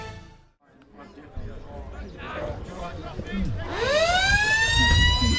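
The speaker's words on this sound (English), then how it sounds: "the siren has just sounded to start this last quarter off" A sports ground siren at a football match wails up and holds a long rising tone near the end, starting the last quarter, over crowd murmur and a voice talking.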